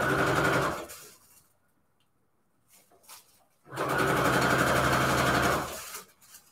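Two bursts of a sewing machine stitching fabric strips onto a string quilt journal cover, each about a second or two of fast, loud, even running, separated by a quiet pause with a few faint handling sounds.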